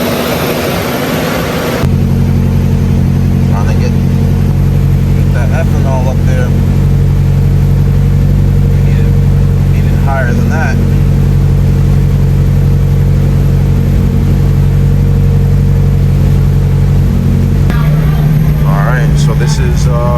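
A Mitsubishi Evo on a stock block with an AGT64mm turbo runs on a dyno, a loud sustained engine drone holding steady for nearly twenty seconds after a sharp start, with faint voices in the background.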